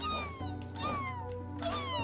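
A cartoon cat meows in the video game Neko Ghost, Jump!, giving a few clear, drawn-out cries over the game's steady background music.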